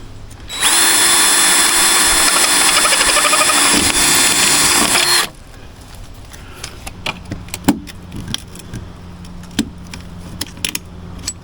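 A power riveting tool sets a rivet into the rusted body of a 2016 Ford Fiesta with one loud, steady, whining run of about four and a half seconds. It is followed by quieter clinks and handling noises nearby.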